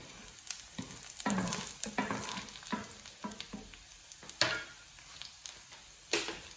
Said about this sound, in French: Et du coup, on va mettre à cuire le bacon.